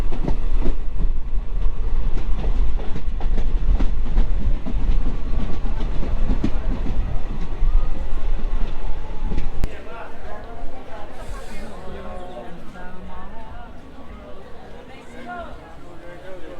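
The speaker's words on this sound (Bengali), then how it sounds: "তাহলে ট্রেন আমাদের এখন চলে আসলো তার পরবর্তী স্টপেজ বেলডাঙ্গাতে।" A passenger train on the Krishnanagar–Azimganj line rumbles loudly with rhythmic wheel clatter, easing to a quieter running noise partway through, while voices carry on in the background.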